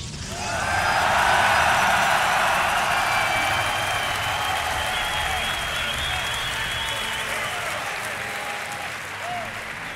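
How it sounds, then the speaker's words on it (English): A crowd at the DreamHack 2011 esports tournament applauds and cheers in a sustained, dense wash of clapping that swells early and then holds steady, heard from within the hall with a faint voice under the noise. "Make some noise for Hero"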